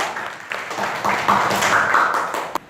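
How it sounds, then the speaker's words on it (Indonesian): A classroom of students applauding for a classmate, a short burst of quick, overlapping claps from a small group, close and fairly loud, with a few children's voices mixed in. "Tepuk tangan untuk Marsa"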